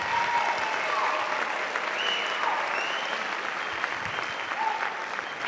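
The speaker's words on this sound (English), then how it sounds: "Let's give another round of applause to our saxophone ensemble." Steady, fairly dense applause from a concert audience at a memorial band concert, rewarding a saxophone ensemble; continuous clapping with faint crowd murmur throughout.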